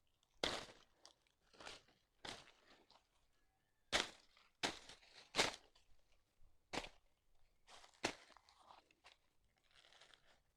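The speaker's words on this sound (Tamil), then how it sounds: "அந்த தண்டை தான் பாருங்கள். இப்போ நான் வந்து வெட்டுறேன் பாருங்கள்." Crisp, crunchy cuts into a banana tree stem, a series of sharp, separate snaps and cracks at an irregular pace, close and fairly quiet with silence between strikes.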